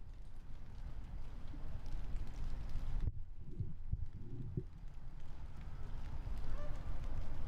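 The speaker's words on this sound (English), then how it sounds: "these geese are just freaking out" Geese honk faintly in the distance, a short cluster of calls over a couple of seconds set against a steady, noisy outdoor background.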